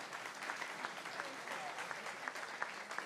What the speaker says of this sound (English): everybody applaud Connor who's getting married.